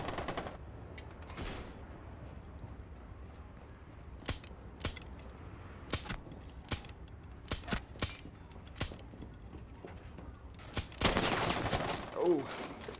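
Gunfire in Rainbow Six Siege: scattered sharp shots and short bursts crack out over a quiet background, some close and loud, some in quick clusters, ending in a louder sustained flurry with metallic clinks.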